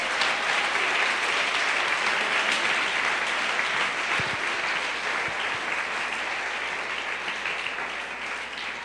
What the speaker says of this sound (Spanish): Aplauso a Jesucristo esta mañana.